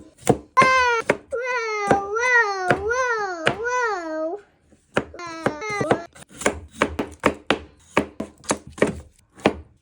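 Vegetables for a veggie roast are chopped on a board, a string of crisp knife knocks close up, at first mixed with a young child's vocalizing and chatter, then a faster run of chops alone.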